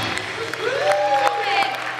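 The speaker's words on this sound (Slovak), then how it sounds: "Veľký potlesk, kámo" Audience clapping at a cosplay parade during a comics and anime convention, a steady wash of applause under a whistle-like tone and a voice speaking over it.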